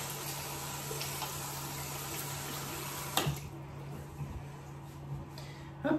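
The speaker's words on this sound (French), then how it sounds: "Là, on va rincer nos mains." Running tap water splashes steadily into a sink as hands are rinsed beneath it, a continuous soft hiss with a few sharper clinks and splashes near the end.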